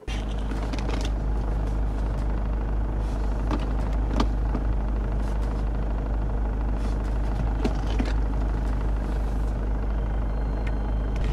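A Mitsubishi Pajero with Super Select 4x4 drives off-road while its drive modes are switched, giving a steady low engine drone inside the cabin with occasional clicks and knocks from the shifter and suspension.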